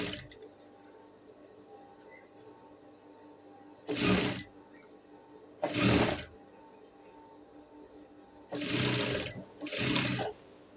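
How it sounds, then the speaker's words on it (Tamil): Sewing machine stitching the curved edge of a saree blouse sleeve, four short bursts of rapid mechanical whirring separated by quiet pauses, close and clear. "இந்த மாதிரி ஸ்டிச் பண்ணி த்ரெட்டெல்லாம் உடனே கட் பண்ணிடுங்க"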